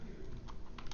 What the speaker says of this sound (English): I'm typing Chinese just now.